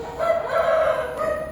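A large rooster of about five kilograms gives a single loud crow close by, rising and holding for over a second before trailing off.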